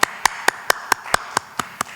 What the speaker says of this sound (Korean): 우리 박수로 서로 격려하겠습니다